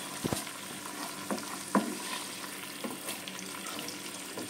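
Ingredients for chili chicken are tossed together in a hot pan, a steady low sizzle with a few knocks and scrapes of the spoon near the start, close by and without speech.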